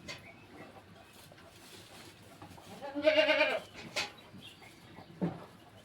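A single clear, drawn-out bleat from a goat kept on a small village farm rises above a low, steady rural background, followed by a couple of brief fainter sounds.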